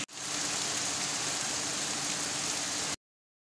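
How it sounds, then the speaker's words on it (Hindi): Heavy rain pours steadily in Karachi, a dense even hiss of downpour close by, lasting about three seconds before cutting to silence. "बारिश जो है वो अभी भी नहीं रुकी"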